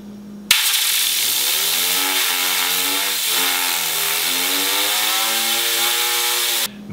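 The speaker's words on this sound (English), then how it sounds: "You gotta use an air compressor on it" Aluminum fidget spinner driven by an air compressor in a shop makes a loud, sustained whirring drone with a rising and wavering pitch for about six seconds, starting and stopping abruptly.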